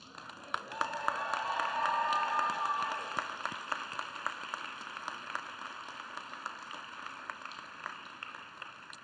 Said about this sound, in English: Just stand and give them a big cheer.